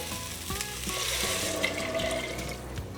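Water pours steadily into a cooking pot for red beans and rice with a broad rushing splash, close and continuous, with a few faint metallic knocks.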